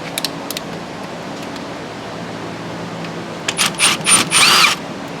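A power tool on a Polaris RZR removes the T25 Torx screws holding down the brake line. It gives several short, loud whirring bursts near the end, over a quiet workshop hum.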